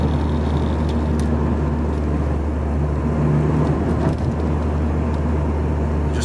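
A small trim surround on a car's stereo rattles inside the cabin while the engine idles with revs slightly raised, a steady low hum with faint buzzing rattle over it.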